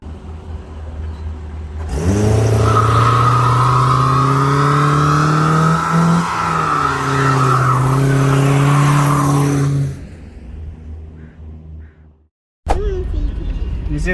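Car doing a burnout, an engine revving hard alongside a loud, sustained tire squeal for about eight seconds, fading out before a brief silence and the engine noise returning.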